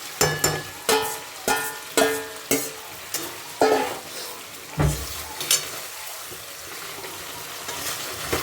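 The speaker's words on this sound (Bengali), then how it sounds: "এবার আলুগুলো দিয়ে একটু কষবো।" Potatoes fry and get stirred in a spiced masala in hot oil for a vegetarian aloo dum, with a steady sizzle broken by a run of sharp, rhythmic scraping strokes that thin out toward the end.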